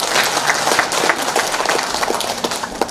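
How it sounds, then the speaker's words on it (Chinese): A concert audience at a Yue opera music event in New York breaks into steady, dense applause that fills the room at an even level from start to finish. "掌声有请"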